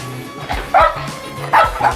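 A shelter dog showing territorial aggression barks loudly and close, two sharp bursts of barking separated by a brief pause, with low thumps and rustling beneath.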